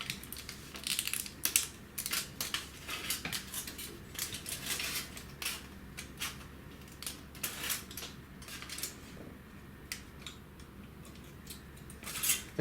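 Tinfoil being cut into star shapes with scissors for a Chinese box luminaria, heard as a close run of crisp snips and crinkling foil rustles that repeat irregularly over a faint steady hum, with no talking.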